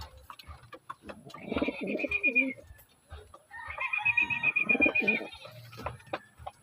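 Racing pigeons coo in two drawn-out, throaty bursts close by during basket loading, with faint rustling and background noise between calls.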